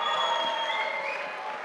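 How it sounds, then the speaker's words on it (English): Audience applause after a resident benefit concert at International House, Berkeley, a steady wash of clapping throughout, fairly faint and distant, with no voices on top. "one more round of applause for everyone tonight"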